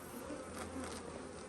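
Honeybees buzz inside an open beehive where comb is being built, a close, steady droning hum without pause.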